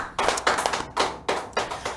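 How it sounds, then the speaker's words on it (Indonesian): A few people at a podcast recording give a guest short, sharp bursts of clapping, about six quick clusters close to the microphone, with no voices. "tepuk tangan dulu dong"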